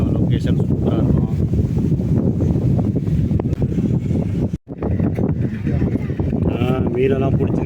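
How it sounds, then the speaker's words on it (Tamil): Strong wind blowing on the seashore at Karaikal, a steady, loud roar buffeting the microphone throughout, with someone talking over it. "நல்லா காற்று சூப்பராக வருது, காற்று அடிக்குது"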